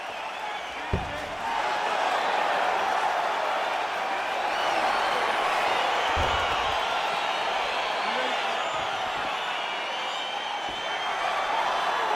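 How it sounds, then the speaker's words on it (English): Crowd noise in the fighting video game EA Sports UFC 4, a steady roar of arena cheering and murmur at the start of a bout, with a couple of sharp thumps and a commentator talking over it. "crowd getting excited as this fight gets underway"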